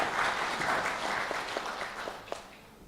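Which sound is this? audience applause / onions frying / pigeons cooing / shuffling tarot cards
audience applause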